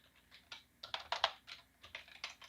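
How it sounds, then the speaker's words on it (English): Keys clatter on a computer keyboard in a quick, uneven burst of close, moderately soft clicks, with a few slightly harder strokes near the middle and no talk. "So now what I'm going to do is I'm going to type in"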